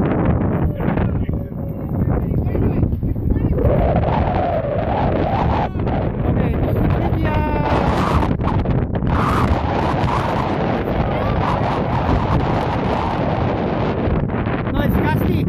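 Gusty wind buffets an outdoor microphone at an airfield, a loud continuous low rumble with surging gusts throughout, with people talking faintly underneath.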